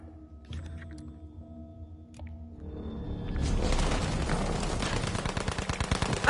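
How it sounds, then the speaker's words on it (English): Gunshots in the video game Battlefield start as scattered distant pops over a quiet hum, then build into a dense, loud, continuous barrage of rapid automatic fire. "I just spawn in and I just immediately hear like 50 gunshots"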